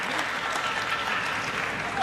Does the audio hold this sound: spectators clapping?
yes